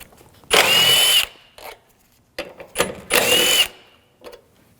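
Power tool driving out bolts with a 10mm socket on a 2007-2013 BMW 328i 3.0L inline-six, two loud bursts of about a second each, with shorter faint clicks and handling noises between them.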